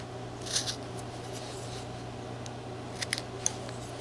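A knife shaving thin slivers from a small wooden rhino figure, a few quiet crisp scrapes and clicks at the start and near the end over a steady low hum.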